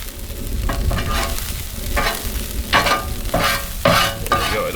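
Bacon-fried corn is scraped and stirred across a hot Blackstone griddle top, close and loud, with metal scrapes coming in bursts over a steady sizzle.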